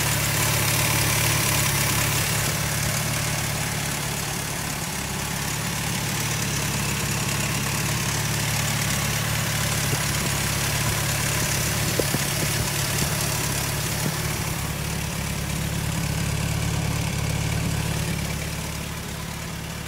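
A 1975 Škoda 110 LS sedan engine idles steadily for about twenty seconds, a close, even low rumble with a faint mechanical chatter and no speech over it.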